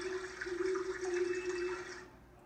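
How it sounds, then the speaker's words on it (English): A stream trickles steadily, with a soft low owl hoot held underneath and faint high sparrow chirps scattered above, all fairly quiet. "So I got a recording of a sparrow, an owl, and a stream, and I put them together,"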